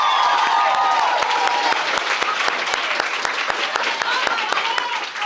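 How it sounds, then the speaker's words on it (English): A debate camp audience applauds the second-place winner at a summer showcase, loud crisp clapping filling the whole stretch with a faint crowd murmur beneath. "In 2nd place, receiving a full round of applause, Caitlin."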